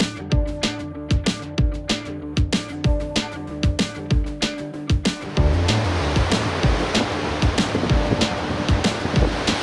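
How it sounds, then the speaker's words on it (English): Wind-driven surf rolls onto a village beach near the Shabla lighthouse in Bulgaria, a steady wash of breaking waves with repeated rhythmic thumps early on, growing denser and louder halfway through, with no voices. "the village has its own beach, but a lot of winds, a lot of waves and a lot of seaweed."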